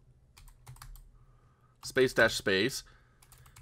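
Keyboard keys tapped lightly at a computer while a playlist name is entered in emulator software, a few soft clicks early on before a voice speaks loudly over the rest.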